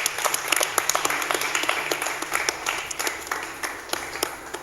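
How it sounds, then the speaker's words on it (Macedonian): An audience applauds a guest named Deo in a talk-show setting, a steady round of clapping with distinct individual claps audible throughout, moderately loud and close. "Може еден аплауз за Део."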